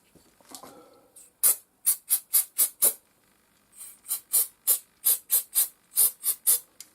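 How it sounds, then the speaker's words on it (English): Non-chlorinated brake part cleaner sprayed onto a BSA A10 motorcycle part in short, sharp hissing bursts, about five in quick succession, a pause, then about eight more, close and loud with no talking. "I'm going to give it a bit of a clean with some non-chlorinated brake part cleaner"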